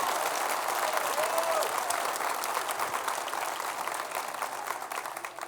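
A church congregation applauds together, a steady wash of clapping heard from a moderate distance that eases off slightly toward the end.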